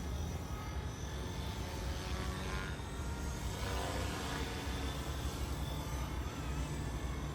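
A radio-controlled helicopter in Coast Guard livery flies with a steady, loud whirring drone of rotor and electric motor that holds constant throughout, with no voices.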